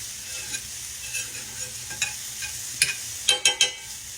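Onions frying in a pan for homemade hash browns, sizzling quietly while a utensil stirs them with scattered scrapes and clinks that grow sharper and louder toward the end, close up with no talking.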